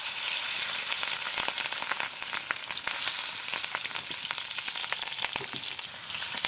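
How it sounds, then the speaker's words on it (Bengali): Fish roe fries in hot oil, a steady dense sizzle with crackling pops throughout, close and loud with no talking, while potatoes wait to be fried for a potato curry. "তেলও গরম হয়ে গিয়েছে, এখন ডিমটা দিয়ে দেবে"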